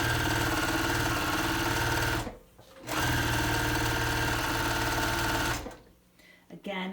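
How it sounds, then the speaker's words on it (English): A sewing machine stitches around the scalloped perimeter of a fabric awning in two long, steady, close-up runs that whir at full speed, separated by brief pauses. "just continue to stitch around the perimeter of the awning"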